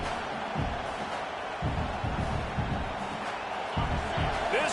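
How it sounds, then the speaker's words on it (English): Stadium crowd roar in a Nebraska versus Bowling Green college football video game, a broad steady wash of crowd noise with periodic low rumbling swells throughout. "This crowd bringing the energy and noise early."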